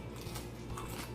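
Quiet crunching bites into Nashville hot Carbo spicy chicken wings, a few crisp crackles close to the mic in a short burst with no talking.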